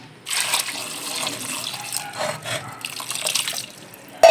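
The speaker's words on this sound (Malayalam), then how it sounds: "ഇനി നമുക്ക് ഇതിലോട്ട് വേവേണ്ട വെള്ളം ഒഴിച്ചു കൊടുക്കാം" Water pours into a cooking pot holding washed pieces for boiling, a close, steady splashing stream that swells and eases for several seconds before a brief knock at the end.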